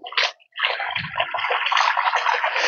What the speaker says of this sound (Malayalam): വെള്ളം നമ്മൾ ഈ കുളത്തിൽ നിന്ന് അടിച്ചാണ് കയറുന്നത്.